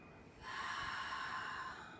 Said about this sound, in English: Breathing into the nose and sighing gently out through the mouth.